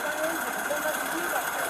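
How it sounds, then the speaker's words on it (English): An idling vehicle with a defective exhaust system gives a steady low engine drone and continuous metallic rattle, close and fairly loud, with a faint voice underneath. "because your vehicle was rattling, it sounded like there was a defective exhaust system"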